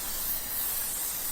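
A spray gun hisses steadily as clear coat is sprayed onto a van, a loud, constant airy rush filling the short stretch.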